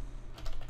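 A short burst of a few keystrokes on a computer keyboard, close and crisp, with no voices.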